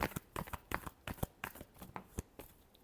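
A deck of cards being riffled and shuffled by hand, a quick run of crisp, rhythmic flutters and snaps repeating about every third of a second, close and fairly quiet, no voices.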